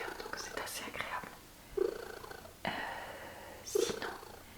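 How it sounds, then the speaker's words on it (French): Loud, steady purring from a cat at an animal shelter, close up, running under soft whispered speech with a few brief breaks. "Il a un ronronnement, vous voyez, qui est assez fort et qu'on entend bien"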